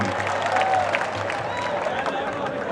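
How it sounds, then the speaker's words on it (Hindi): A crowd at a Hindi comedy poetry gathering claps in scattered, moderate applause, with murmuring voices and some talk mixed underneath the clapping. "तालियां बजा दीजिए, माफी मांग ली।"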